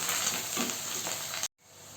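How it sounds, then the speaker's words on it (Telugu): Curry leaves and onions fry in oil in a pan, a loud close sizzle that cuts off abruptly for a moment and then comes back quieter. "కరివేపాకు, బాగా ఎర్రగా వచ్చేలా వేయించుకోవాలా."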